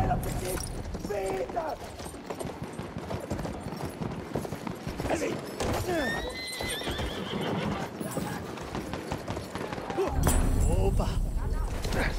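Horse hooves clip-clop at a gallop with several neighs and whinnies in a Battlefield 1 World War I combat game, loud and steady throughout, with gameplay noise and a burst of louder action near the end.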